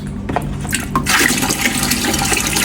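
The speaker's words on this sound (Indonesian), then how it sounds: "Untuk proses masukin airnya harus agak pelan ya, agar ikannya nggak kaget loh." Water pours and splashes into a fish aquarium being filled slowly, a steady gushing fill heard close up with no talking.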